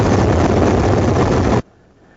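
Army helicopter carrying passengers over Dakar and its suburbs gives a loud, steady broadband roar of rotor and engine that cuts off abruptly near the end.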